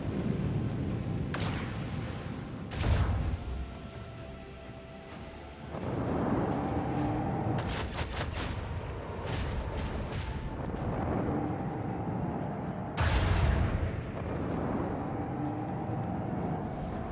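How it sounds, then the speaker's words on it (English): Heavy macro cannons firing in a video game, with deep booming blasts at irregular intervals, a few of them louder and closer, over a low continuous rumble of background battle noise. "I want to hear the macro cannons roar!"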